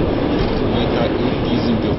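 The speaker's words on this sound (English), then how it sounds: "The train is driving into the night." A private train on the Trans-Siberian route runs through the night, a loud, steady, continuous rolling rumble with no breaks.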